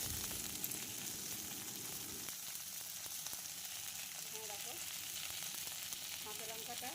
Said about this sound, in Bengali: তেলটা আমার হয়ে গেছে গরম। এবার আমি এই তেলের মধ্যে দিয়ে দিলাম বরবটিটা